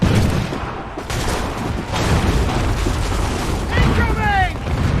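Assassin's Creed III gameplay in which enemies open fire, with rumbling booms and crackling gunfire under shouting voices, a dense, continuous battle din at fairly loud volume.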